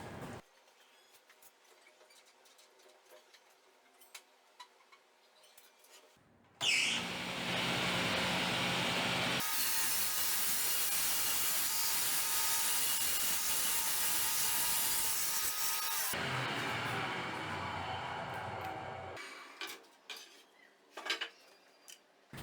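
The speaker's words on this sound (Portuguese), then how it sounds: "Agora eu vou botar minha serra com 7 centímetros de altura, que aí ela vai ter menos material para retirar" A power saw set to a 7 cm cutting height bores out the core of a wooden table leg. Loud, steady, broadband cutting roars for about ten seconds between quieter stretches of workshop handling.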